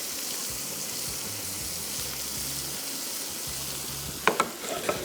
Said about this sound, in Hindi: अब इसकी होगी भुनाई